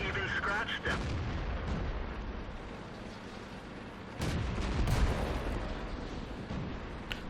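Tank cannon fire in World of Tanks, heavy booming shots with rumbling low-end, one burst near the start and another around the middle, over continuous engine and battle noise with a voice speaking.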